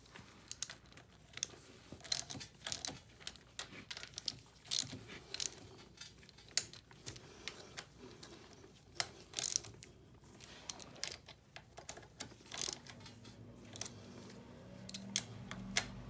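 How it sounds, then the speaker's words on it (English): A ratchet tightens bolts on the rear axle of a Honda 250ex ATV, producing close, quiet clicking bursts and scattered metallic ticks that come in short irregular runs, with nobody talking. "So I'm going to tighten these all up with the ratchet."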